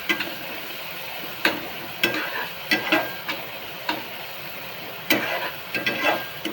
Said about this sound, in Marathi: चांगला टोमॅटो भाजून घेऊया एकदम मऊ